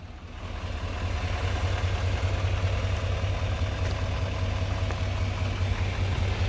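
A 6.6 liter Duramax turbodiesel in a 2018 GMC Sierra 2500 Denali 4X4 idles with a steady, deep diesel rumble and faint clatter, close up and unbroken, with no talking.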